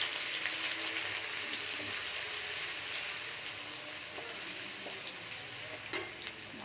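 Onion and garlic fry together in oil tempered with bay leaf and dried red chillies for rajma, giving a steady, close sizzle with occasional stirring, and no talking.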